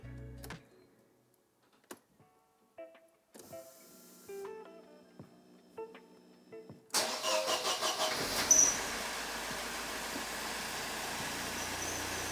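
A Mercedes 190E 1.8 engine cranks and catches after some clicks and faint mechanical sounds, then settles into a loud, steady running rumble.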